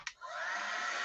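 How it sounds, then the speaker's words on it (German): A hair dryer blows steadily over freshly stamped paper at a craft table, starting after a brief click and holding an even, close, continuous whoosh to the end with no talk. "Ich föhne das trotzdem mal gerne."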